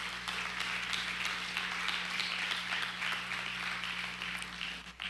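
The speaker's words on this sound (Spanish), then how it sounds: "Dale un aplauso al Señor." A church congregation applauds steadily during a Spanish-language sermon, a dense, even wash of clapping from many hands that holds for about five seconds over a low electrical hum, with no clear talk.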